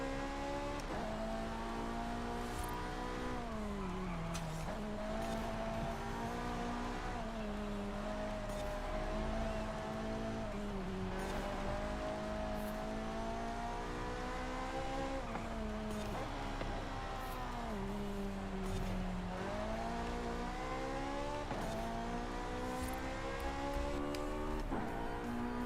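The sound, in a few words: Ferrari car engine racing in Forza Horizon 5 video game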